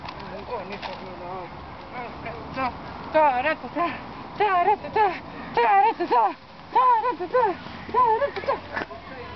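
Repeated nasal quacking calls in bursts of several notes, close and fairly loud, with a person's voice talking over them at times.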